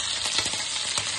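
Tomato, browned onion, green chilli and dried coriander sizzle loudly in a pan as masala fries, a dense continuous hiss with a few soft stirring scrapes.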